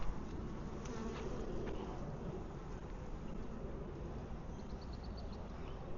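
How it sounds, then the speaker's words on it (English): Honey bees in an open beehive in Wisconsin make a dense, steady buzzing drone, close and continuous, with a few individual bees whining nearby. "This hive is exceptionally calm."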